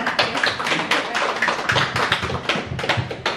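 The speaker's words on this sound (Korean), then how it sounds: "우리 뜨거운 박수를 한번 맞이하겠습니다" A small audience claps steadily at a poetry book talk and author signing, the individual hand claps near and distinct, forming a continuous patter.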